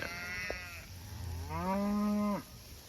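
Cattle and calves moo on a pasture, one shorter low call followed by a longer, louder drawn-out moo that rises then cuts off, heard close with no talk.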